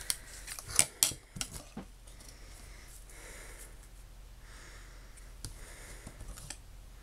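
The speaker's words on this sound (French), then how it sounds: "on va donc découper des petites formes avec cet emporte-pièce" A hand punch cuts small shapes from a sheet of cork, giving a few sharp close clicks and crunches early on, then quieter scattered handling sounds over a low room hiss.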